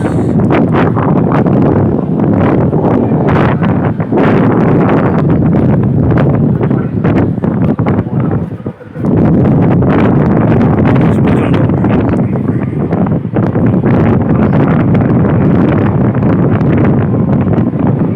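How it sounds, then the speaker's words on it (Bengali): Strong, constant seashore wind roars and buffets the microphone, loud and continuous, with a brief dip midway before the gusting resumes. "বাতাস, প্রচণ্ড বাতাস।"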